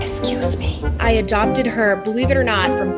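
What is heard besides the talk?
None of the usual background noises is heard.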